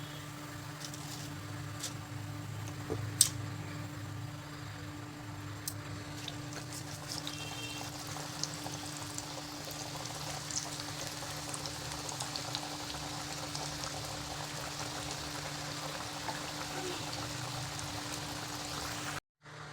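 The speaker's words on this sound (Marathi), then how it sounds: "मस्त ब्राऊन कलरवरती तळून घ्यायचे एकदम लो फ्लेमवरती" Cabbage vadas fry in oil on a low flame, giving a soft, steady bubbling crackle like light rain, continuous and fairly faint with occasional small pops.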